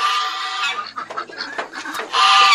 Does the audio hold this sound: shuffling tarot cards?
no